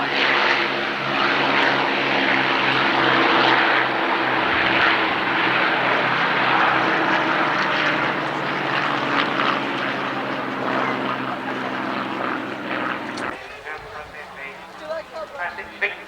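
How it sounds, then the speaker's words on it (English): Lancaster bomber, Hurricane and Spitfire of the Battle of Britain Memorial Flight in formation, a loud, steady drone of piston propeller engines sustained near and then fading as they pass; a voice commentates underneath. "Lancaster with the Hurricane, the Humpty-back one, and the Spitfire on the Ranthambridge Memorial Flight"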